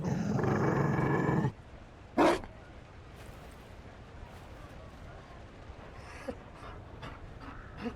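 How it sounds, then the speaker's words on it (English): A Mabari war dog in Dragon Age Inquisition pants heavily in a loud burst, then falls to quieter breaths broken by a few short snorts and huffs over soft game ambience. "You found a dog. They don't breed Mabari in Olay."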